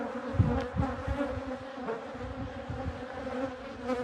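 Honey bees at a healthy hive buzz in a steady, close drone, with individual bees zipping past now and then, alone with no voices.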